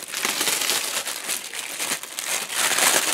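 A resealable plastic bag holding model kit sprues for a Takom 1/35 Jagdtiger is opened and handled, giving continuous close crinkling and rustling for a few seconds, loud and with no talking.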